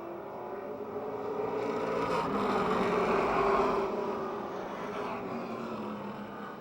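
Race cars roar at Motordrome Speedway as a pack accelerates hard at a race start, a continuous distant engine drone that swells in the middle and eases back, heard with no talk.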